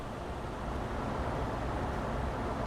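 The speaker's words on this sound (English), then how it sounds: "It's so loud when you're outside of the car, but not when you're sat in it." A car engine in the video game The Long Drive runs steadily, heard from outside the vehicle. It gives a loud, constant rumbling drone that holds for the whole stretch with no talking.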